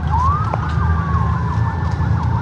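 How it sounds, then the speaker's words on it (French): Police siren wailing loudly and continuously with rising and falling pitch sweeps, heard close over steady engine rumble. "On se fait poursuivre par la police."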